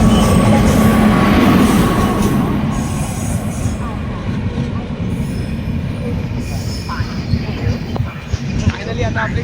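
The 10105 Diva Sawantwadi Express pulls into a crowded station with loud rolling wheels and screeching, squealing brakes that ease toward the end, while crowd voices mix underneath.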